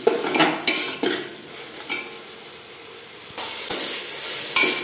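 Onions sautéing with turmeric and salt in a pan for chicken biryani, stirred in bursts of scraping and sizzle, with louder spoon strokes near the start and end and a softer simmering lull between.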